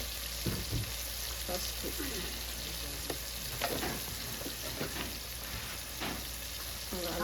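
Village-style chicken curry fries in a pan, giving off a loud, continuous sizzle and crackle with intermittent stirring scrapes, while a voice briefly speaks over it.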